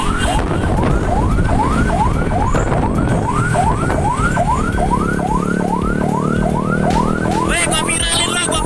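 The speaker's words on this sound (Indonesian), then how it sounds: "Sudah Pak, sudah menyalakan sirine, sudah menyalakan lampu rotator" An ambulance siren wails loud and close in a rapid repeating rising yelp, running continuously over heavy traffic rumble and street noise.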